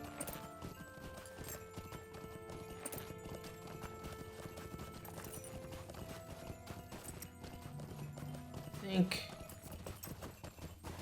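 Horse hooves clip-clop at a steady riding pace in LOTRO during a long ride, faint and continuous under background music, with a brief whinny near the end.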